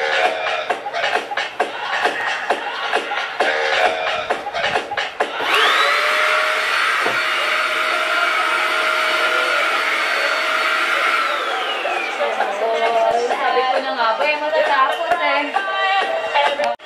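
A vacuum cleaner switches on partway through and runs as a steady, loud roar, drawing air out of a sealed plastic bag. A voice speaks over the hum before and during the run, and the motor pitch changes near the end.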